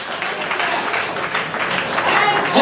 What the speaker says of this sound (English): Clap your hands and thank God right now